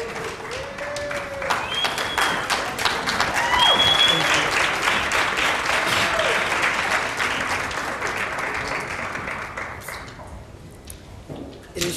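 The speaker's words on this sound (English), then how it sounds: "give them a round of applause" A crowd applauds steadily for several seconds, dense clapping that stays loud before tapering off, with some voices mixed in.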